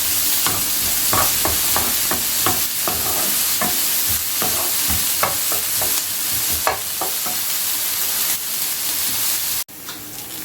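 Chicken sears in a hot grill pan, with a loud continuous sizzle and hiss and scattered scraping and stirring clicks, near and steady with no voices.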